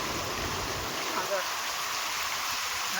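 Floodwater after a heavy downpour, a river running bank to bank: a continuous broad rushing of flowing water, steady and fairly loud throughout.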